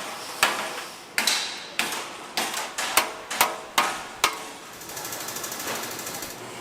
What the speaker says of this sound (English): The edges of the sheet metal are also bent using a hammer and jig